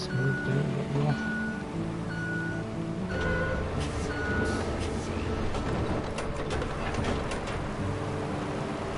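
Reversing beeps repeat at a steady interval over the rumbling engine of a truck in the video game Roadcraft, with mechanical clatter and a loud, continuous background.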